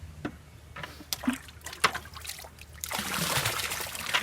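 Water rinsing CL500 efflorescence cleaner off a masonry surface, scattered trickles and drips at first, then a steady louder spray of running water toward the end.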